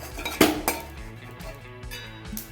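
A metal stand and then a plate are set into a saucepan preheated with salt, as an oven substitute for baking cupcakes. There are two sharp metallic clanks followed by lighter scraping clinks, close but fairly quiet, with no talking.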